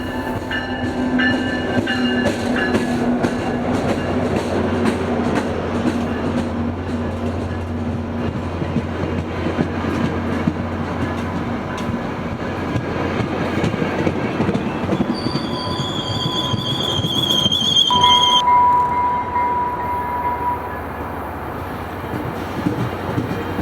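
A FrontRunner commuter train in Utah rolls past close by, its rumbling wheels and rhythmic clatter sustained throughout, with high metallic squeals of wheels rising near the end as cars keep passing.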